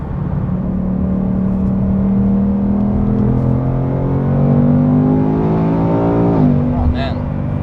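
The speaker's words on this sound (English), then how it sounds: "the V8 in this car is one of the best. It sounds unreal." The V8 engine of a manual Ford Mustang GT drones loudly and steadily, its pitch climbing slowly before falling off sharply just past the six-second mark.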